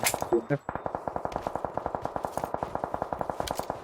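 Rapid automatic gunfire in a PUBG match, a steady burst of sharp, evenly spaced metallic shots lasting several seconds, loud and close, with a brief voice at the start.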